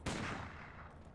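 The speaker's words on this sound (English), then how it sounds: "I was really hoping that that gunshot would hit." A gunshot from the dungeon game Legend of Grimrock 2: a single loud, sharp blast at the start that decays into a rumbling tail over about a second, with no talk.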